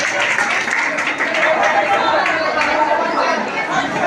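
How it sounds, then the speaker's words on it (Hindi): Crowd at a Children's Day poetry event in Nawada welcomes poet Dayanand Gupta with loud, steady applause and clapping, mixed with audience chatter throughout. "जोरदार ताली से दयानंद गुप्ता जी का स्वागत किया जाए"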